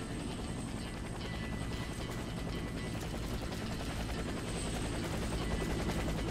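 A helicopter in the shooter game Warface gives a steady, dense rotor thump and engine roar that holds evenly the whole way through, loud and close, with no voices over it.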